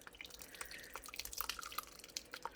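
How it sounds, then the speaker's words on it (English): Whey from powdered-milk curd drips through a cloth, giving a quiet scatter of small, close drips and trickles that fall irregularly with no voices. "So all of that liquid is going to go down through, but all of our curd is going to stay in the cloth."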